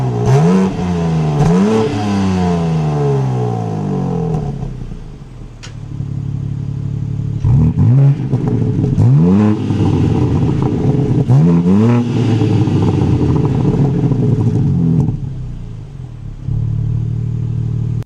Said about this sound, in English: This has a valved exhaust. So if you want to listen to the exhaust, let's take a listen right now.